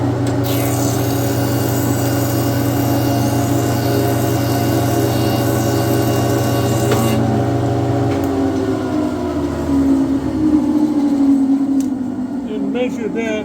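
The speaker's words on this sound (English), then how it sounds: "figure out where the planer is set right now. So we're going to run a piece of wood through there." A wood planer feeds a piece of wood through its cutter head, a loud steady machine drone with a rough rasping edge that winds down near the end.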